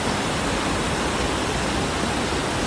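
Mother Falls waterfall in Aurora, a dense, steady roar of falling water heard close and loud, with no voices over it.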